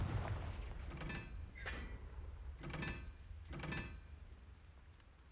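Spell blasts from the Confringo fire spell in Hogwarts Legacy: four short bursts, each with a crackling, whooshing high edge, spaced about a second apart over a steady low game rumble.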